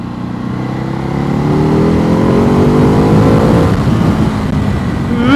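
A Kawasaki KLX 500 motorcycle engine revs loud and close, its pitch climbing steadily as the throttle opens and then holding at a high, sustained roar.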